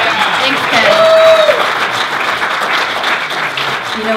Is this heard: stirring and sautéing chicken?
no